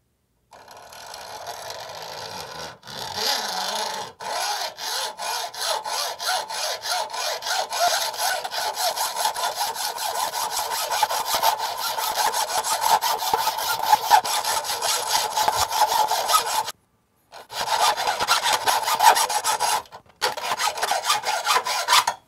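A basic hacksaw cuts through a metal workpiece clamped in a vise, steady rasping back-and-forth strokes running close and loud, with a few brief pauses between bursts.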